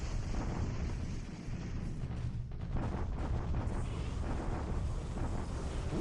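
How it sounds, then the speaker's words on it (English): Naval bombardment in the War in the Pacific strategy game, a continuous dense rumble of overlapping explosions, heavy and steady throughout without a break. "That's a good bombardment."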